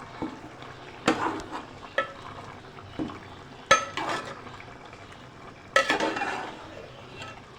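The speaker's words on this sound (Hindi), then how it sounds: "अभी मैं ये सब डाल के इसको मिक्स करती हूँ।" Spices such as ground coriander and paprika red chili powder being stirred into butt karahi in a metal pot, scattered scraping clanks of a spoon against the pot with faint sizzling between strokes, no talk.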